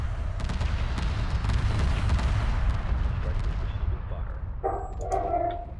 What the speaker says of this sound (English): Apologize for the barking.